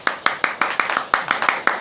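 Hands clapping at an anniversary celebration, about ten sharp, close claps in a quick even rhythm with no other sound between them.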